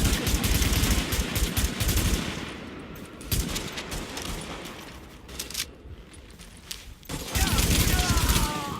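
Gunfire in The Division: bursts of rapid automatic shots, loud and close, break off into quieter stretches with scattered single shots and then resume, while someone talks over parts of it.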